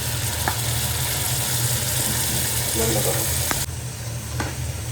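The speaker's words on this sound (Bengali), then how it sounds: "ভালো মতো নেড়ে চেড়ে পোলার চালের সাথে মিশিয়ে নিচ্ছি।" Fried vegetables are stirred together with polao rice in a pan, producing a constant close sizzle with scraping stir strokes and a low hum underneath, then a slight drop in level near the end.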